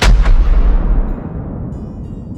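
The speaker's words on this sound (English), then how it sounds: "A chorus of cannon fire echoed through the valley" Two booming cannon shots fire in quick succession across a valley, their heavy roar rolling away into a long, fading echo.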